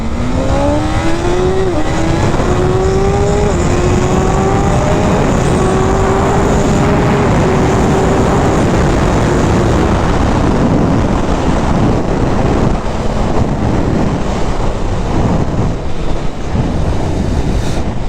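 A BMW S1000RR sport motorcycle screams through a quarter-mile acceleration run, its engine pitch climbing and dropping sharply with each gear shift, loud and close under heavy wind buffeting.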